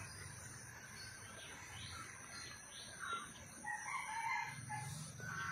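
A rooster crows outdoors, distant and moderately faint, over a steady bed of insect chirring and soft ambient noise, with the crowing growing stronger toward the end.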